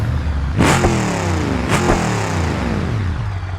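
A car engine fires up with its exhaust line removed, running straight-pipe with two sharp, loud revs in quick succession that fall back to a rough, rumbling idle, with no voices over it.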